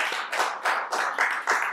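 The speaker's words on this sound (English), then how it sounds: "Let's give a hand for Renee, and let's give him another hand for making up time for us." Audience applause at a pitch night, several bursts of clapping swelling and fading in quick succession over a couple of seconds, moderately close and without speech.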